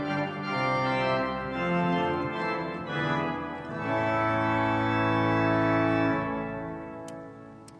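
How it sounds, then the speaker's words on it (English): Canterbury Cathedral's pipe organ plays its full choir chorus up to trumpet, a loud, rich chord with strong bass that shifts through several sustained harmonies before fading out near the end. "So the full choir chorus to trumpet sounds like this."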